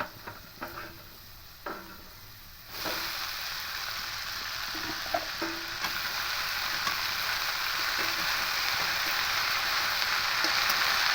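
Chickpeas fry in a pan and then chopped red amaranth greens are added, a few light clicks and taps at first, then a sudden surge into a loud, steady, close sizzle that continues unbroken without speech.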